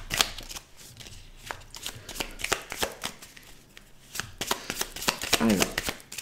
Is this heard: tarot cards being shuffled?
yes